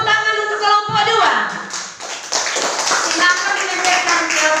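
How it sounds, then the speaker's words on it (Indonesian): A class applauding the second group of students, a brief burst of many hands clapping close by, with a voice at the start before the clapping rises. "Tepuk tangan untuk kelompok 2."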